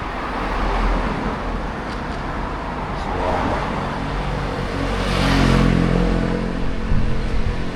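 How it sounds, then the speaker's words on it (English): A car rolls along a narrow road in an old village with new construction, its engine hum swelling as it draws near and passes close by, with a voice talking faintly underneath. "Got a car in the way here."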